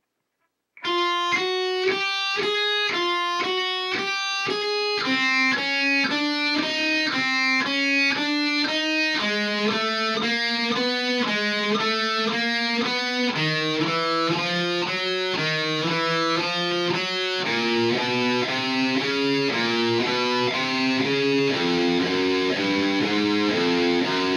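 A distorted electric guitar plays a fast, even run of single notes with strict down-up alternate picking, stepping steadily through a descending pattern with no talking.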